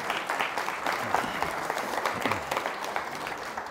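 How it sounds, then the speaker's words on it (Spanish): Audience applause for the competitors lined up at the start of an animal race, a dense steady patter of many hands clapping close by for a few seconds. "Un aplauso para nuestros competidores."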